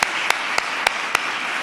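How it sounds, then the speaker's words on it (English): Applause at a White House holiday event with military kids, heard as a steady wash of clapping punctuated by five evenly spaced sharp, loud claps close by. "Let's give them a whole round of"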